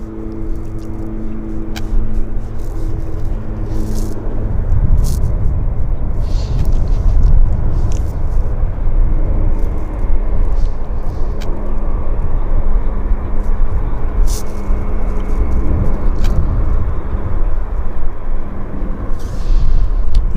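A WestJet airliner approaching YVR airport makes a low, steady engine rumble that swells in and holds loud and continuous, with occasional faint clicks over it.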